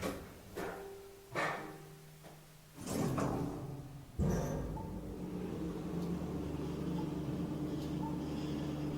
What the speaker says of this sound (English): don't you go closing the door on me